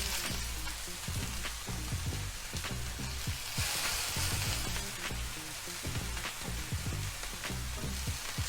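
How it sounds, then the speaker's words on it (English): Ground beef meatballs sizzle and crackle steadily in a hot frying pan, with scattered pops and occasional stirring, close and moderately loud with no voices. "form the ground beef into little balls and just toss them in. So we'll stir them off for a few minutes"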